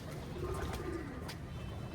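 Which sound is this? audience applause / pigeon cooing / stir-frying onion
pigeon cooing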